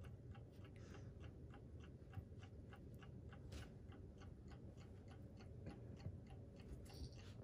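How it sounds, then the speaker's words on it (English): Clock ticking beside a litter of young mini Aussiedoodle puppies, a faint, steady, evenly spaced tick over a low background hum, continuing alone without talk. "If you hear a clock, that's because it's to imitate the heartbeat."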